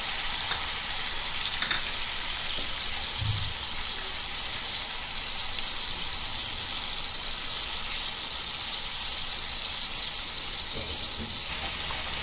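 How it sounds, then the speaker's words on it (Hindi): Onions frying in oil in a pan for an egg paneer gravy, a steady close hiss of sizzling with occasional soft knocks, no voices. "देखो, अभी इसको अच्छे से भूनेंगे।"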